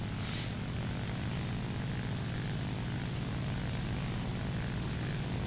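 Propeller fighter plane engine in War Thunder, a continuous steady drone with a low throbbing hum, constant and unbroken with no talking.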